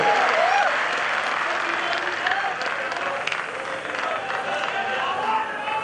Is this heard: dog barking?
no